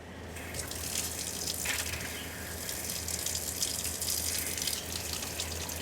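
Hot water gushes steadily from a motorhome tap into a sink, a continuous bright splashing stream heard close and alone for several seconds.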